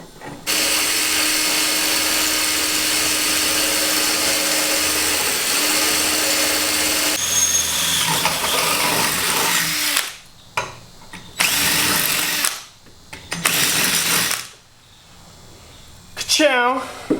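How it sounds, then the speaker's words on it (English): Power drill boring a hole in a Napa awning mount, a loud sustained whirring run of about ten seconds followed by shorter bursts and spinning, with a voice speaking briefly at the end. "so I know exactly where to drill my next hole here"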